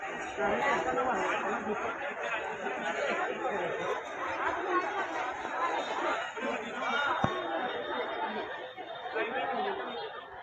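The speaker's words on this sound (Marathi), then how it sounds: "गर्दी आपाट आहे बरं का" A large crowd chatters at the Balumama temple in Adamapur, with many overlapping voices and occasional laughter forming a dense, steady murmur close around.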